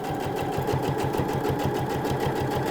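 A sewing machine topstitches a pair of trousers, running at a steady fast clatter with a rhythmic mechanical pulse and a whirring motor throughout, close and unbroken.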